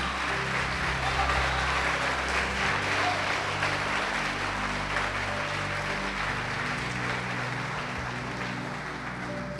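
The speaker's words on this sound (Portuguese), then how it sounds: "Você pode aplaudir o Senhor Jesus por isto." A church congregation applauds in a dense, sustained wash of clapping lasting several seconds, with a low organ-like drone and faint voices beneath.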